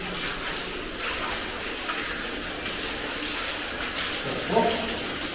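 Water gushing and splashing continuously inside the dead end of an abandoned tungsten mine, a steady broadband rush with a faint voice briefly audible near the end.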